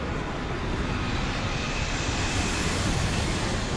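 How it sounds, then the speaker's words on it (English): Jet airliners roaring as they take off in a drama scene, a continuous loud broadband engine rumble and whoosh that stays steady throughout with no speech. "there's just planes. Just taking off."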